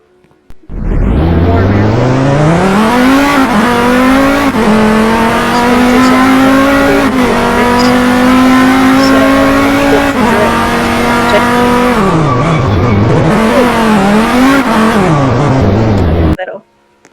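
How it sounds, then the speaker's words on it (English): A Dodge Viper in the Car Driving Ultimate video game roars loudly and continuously, engine pitch climbing and holding through a long rev before wavering and dipping as it drifts, then cutting off abruptly. "Dodge Viper."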